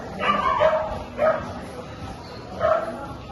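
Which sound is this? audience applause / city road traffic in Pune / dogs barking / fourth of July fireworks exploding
dogs barking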